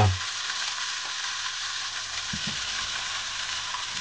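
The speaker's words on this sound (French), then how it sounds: "j'ai un mélange huile-beurre et je viens faire une cuisson à l'étouffée. Donc je viens poser mes courgettes" Courgettes hit a hot oil-and-butter mix and fry with a bright, even hiss that holds steady, with a couple of faint knocks from setting them down; no voices.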